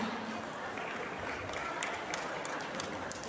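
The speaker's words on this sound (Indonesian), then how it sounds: "Mari tepuk tangannya untuk Bapak Sunarno." An audience at a campus expo talk show gives a steady, fairly distant round of applause, a soft continuous patter of many hands heard faintly throughout.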